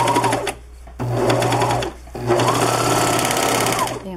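Sewing machine stitching the cuff of a hoodie, running in loud close bursts with a short pause between runs and a steady mechanical whir throughout.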